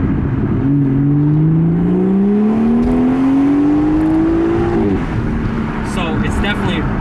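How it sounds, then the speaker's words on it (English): A BMW 440i fitted with an M Performance exhaust accelerates hard from inside the cabin. Its loud engine note climbs steadily for several seconds, then drops sharply at a shift, with talk faintly underneath. "got the M Performance exhaust, and he never looked back since, and it sounds amazing"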